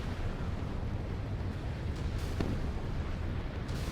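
In the naval warfare game Sea Power, a sharp gunfire-like crack of a warship being hit sounds over a constant heavy rumble and roar, with a few brief bursts standing out from dense, loud low-end noise.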